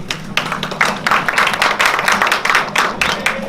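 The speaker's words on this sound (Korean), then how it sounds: "큰 박수로 환영해 주시기 바랍니다" An audience at a press conference for the opening of Ewha Womans University Seoul Hospital claps to welcome a speaker, giving lively, uneven applause with distinct individual claps at close range.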